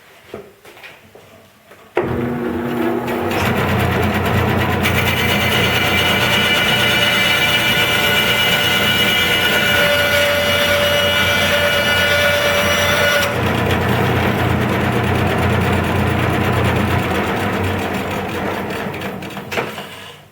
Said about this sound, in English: One thing with the bandsaw, I've done a lot of cutting with it lately, and the blade has gotten quite a bit dull, so it's going to be slow going